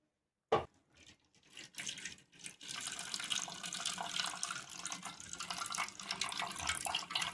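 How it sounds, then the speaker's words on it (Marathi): Coconut milk is strained through a cotton cloth into a vessel, a soft liquid trickling and pouring after a sharp initial clink, building into a steady quiet splashing stream close by. "आता आपल्याला सुती कपड्याने किंवा गाळणीनं गाळून घ्यायचं आहे."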